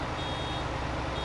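Baler warning beeps in the Farming Simulator 22 video game, a steady tone over a continuous machine drone, signalling a full bale ready to drop.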